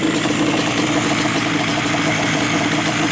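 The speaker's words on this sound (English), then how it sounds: "Now to idle again, just to be sure that nothing changed at idle speed" Yamaha Banshee engine idling after a carburetor sync, a steady, loud, close mechanical drone with even rumbling pulses and no change in speed.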